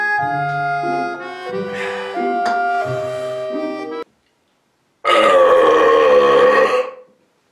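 A series of big, loud, drawn-out burps after drinking Miller Lite beer, with a long tonal belch, a second of silence, then another rough, resonant burp trailing off.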